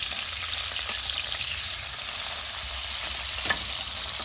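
Shrimp frying in a pan, giving a constant close hiss of sizzling oil with a couple of faint taps of a utensil, no talk.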